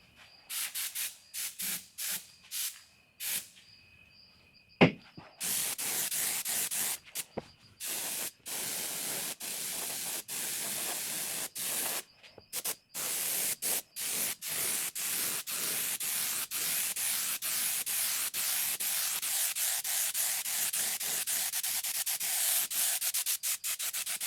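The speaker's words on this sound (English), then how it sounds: "We'll go ahead and paint this and try to do a little blend there." Spray gun laying paint onto a rusted quarter panel of a barn-find car to blend a patina match, a steady close hiss in long bursts broken by short gaps and clicks, with no talking.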